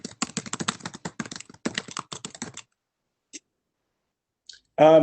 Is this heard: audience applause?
no